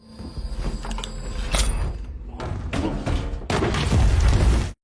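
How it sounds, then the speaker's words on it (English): A bomb explosion: a deep booming blast with crashing, rumbling debris, loud and close, followed by continued heavy rumbling and clatter before cutting off abruptly. "The explosion kills them instantly."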